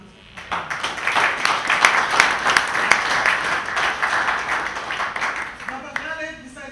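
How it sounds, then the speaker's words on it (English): An audience at a book launch applauds steadily for several seconds, a dense patter of clapping that fades out as a voice begins to speak. "I think we should give him a hand of applause."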